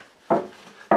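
A deck of oracle cards being cut by hand, two brief papery riffling swishes about half a second apart, close and clear against near silence.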